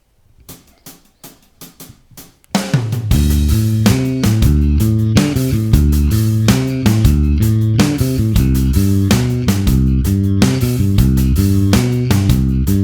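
Electric bass plays a riff in 7/8 time. Sparse muted clicks come first, then a loud, driving pattern of repeated low notes with a steady rhythmic pulse, with no talking.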